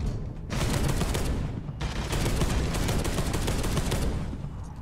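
Sustained gunfire from the Deathwing video game, a dense, loud machine-gun rattle that cuts out briefly near the start and again around the two-second mark, then resumes and runs continuously to the end.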